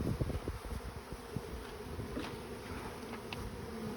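A large swarm of honey bees buzzes close by, a dense irregular hum with individual bees passing near, fairly quiet overall and without talk.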